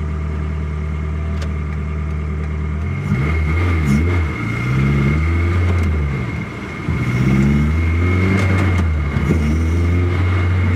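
A Toyota MR2 with a swapped K24 engine idling and then revving up under acceleration, a deep rising engine note heard from inside, loud and close, with gear changes and surges.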